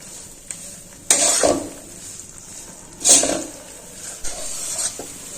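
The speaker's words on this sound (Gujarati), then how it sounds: "હવે લોટને આપણે એકદમ પ્રોપર રીતે શેકી લેવાનો છે।" Flour for adadiya roasting in a pan, stirred with a spoon in a few distinct scraping strokes over a soft, steady sizzle, close and fairly quiet.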